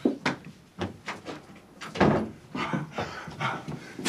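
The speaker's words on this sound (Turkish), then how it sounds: "kapıyı aç" A door opened in a home during a sitcom scene, with knocks and rattling handling noises spread over a few seconds amid a busy room.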